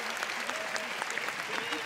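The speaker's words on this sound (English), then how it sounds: "Let's hear the applause as the crew enters into the movie theater." Audience applause fills a Cannes film festival movie theater as the film crew enters, dense steady clapping from a large crowd lasting under two seconds.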